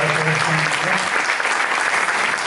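Steady, dense applause from a crowd at a percussion festival fills the whole stretch, loud and continuous without a break.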